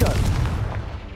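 A Confringo blasting spell explodes in a Harry Potter video game, one heavy boom with a rumbling low tail that fades over about a second.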